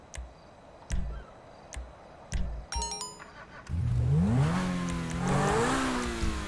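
A car engine in GTA V revs up and holds a rising, wavering roar after a few short clicks and chimes from the game menu, loud and close with no talking.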